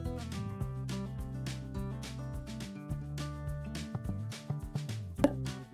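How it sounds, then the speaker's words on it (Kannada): Okra pods trimmed at both ends and slit down the middle with a knife, giving a steady run of crisp chopping taps against a board, close and clear with no talking. "ಬೆಂಡೆಕಾಯಿಯ ಚೊಟ್ಟಿನ ಭಾಗ ಹಾಗೂ ತುದಿನ ಕಟ್ ಮಾಡಿ ಮಧ್ಯದಲ್ಲಿ ಸ್ಲಿಟ್ ಹಾಕಿ ರೆಡಿ ಮಾಡಿಟ್ಕೊಳ್ಬೇಕು"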